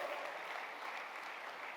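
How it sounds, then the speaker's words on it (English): Audience applause at a corporate speaking event for Enagic Kangen Water, even and sustained, heard faintly at a distance. "Let's have a big clap for our Energy Oshiro."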